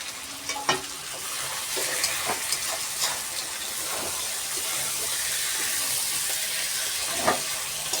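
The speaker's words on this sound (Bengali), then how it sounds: "তার মধ্যে এবার আলুগুলো আমরা দিয়ে দেবো, করে নেড়ে নেব" Potatoes stirred in a pan of hot oil while cooking a chicken dish, a steady bright sizzle broken by repeated scraping clicks of a spoon against the pan, close and without talk.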